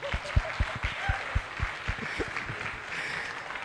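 Audience applause at an event honouring actress Rashmika, a crowd clapping in a steady patter with several sharper near claps standing out over a continuous wash of hand noise.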